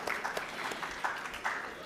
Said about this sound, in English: Please give a round of applause to our speakers.